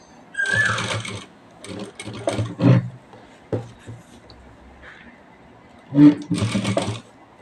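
Sewing machine stitching lace trim onto a blouse edge, running in several short close bursts with pauses between them.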